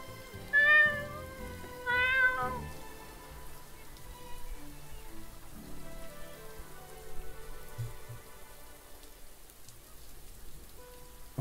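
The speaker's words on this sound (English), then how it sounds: "He meows like that when he's upset or he wants attention." A domestic cat meows twice, loud and close, then rain patters softly on a surface for the rest of the stretch.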